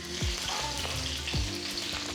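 Mustard seeds, chana dal, fenugreek and cumin seeds, red chilies, hing and curry leaves frying in hot oil in a kadai, a close, steady sizzle with sharp pops and crackles.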